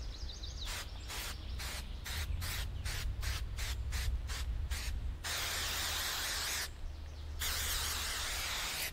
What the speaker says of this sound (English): spraying the sides that I missed